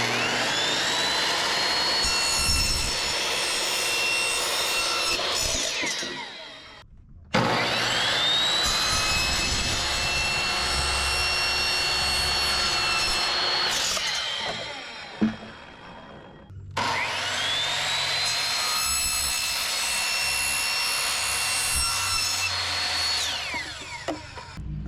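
A power tool cuts through material for a budget musky fishing tackle box, running in three long, loud whining bursts with brief pauses between them.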